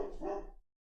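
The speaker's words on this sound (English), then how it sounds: "That was the dog again." A dog in the Doki Doki Literature Club game gives a single short, muffled bark that fades quickly, heard alone with nothing after it.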